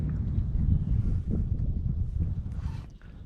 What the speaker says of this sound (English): the wind starts blowing a little bit when we get up here